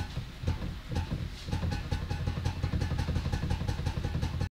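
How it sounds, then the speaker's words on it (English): Repeated mechanical clicking and clatter from the gear shift linkage of a Mark 1 Ford Fiesta, a steady rattling rhythm close up with engine-like rumble underneath, no talk. "Another nice feature in here is the shift linkage. It makes an audible noise to let you know that you're changing gears."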